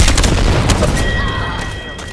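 Gunfire in the video game Apex Legends, a loud boom at the start followed by dense rumbling shots that trail off, with a steady tonal whine running underneath.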